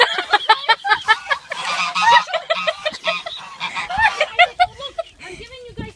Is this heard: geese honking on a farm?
yes